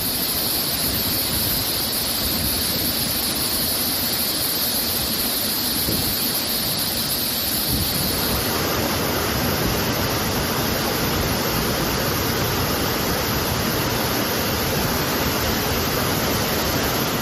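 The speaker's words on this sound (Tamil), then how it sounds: "மேற்கு தொடர்ச்சி மலையை ஒட்டிய சுருடி அருவி பகுதிகளிலும் கனமழை பெய்தது" Suruli waterfall in the Western Ghats near Theni pours under heavy rain, a loud, dense, unbroken roar of falling water throughout, swelling noticeably fuller and brighter about halfway through, with no voices.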